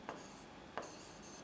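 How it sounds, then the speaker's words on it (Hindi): A pen scratches on paper while working a maths profit-and-loss problem, making two short, faint strokes about two-thirds of a second apart in a quiet room with no talking. "आप यहाँ लिखेंगे कि"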